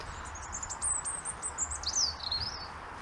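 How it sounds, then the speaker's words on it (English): A robin sings a high, thin warbling phrase outdoors on a common over a soft background hiss, fairly faint and somewhat distant. "That's got to be a robin singing away."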